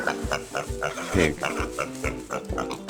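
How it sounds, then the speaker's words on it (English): A toy pig sounds a quick run of rhythmic, close-up oinks and snorts, repeated throughout over a busy background. "Pig."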